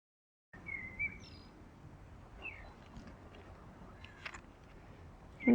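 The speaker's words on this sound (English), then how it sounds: "I hope you can hear the birds." Small birds chirp intermittently outdoors, scattered tweets over a steady low background hum, with a louder bump near the end.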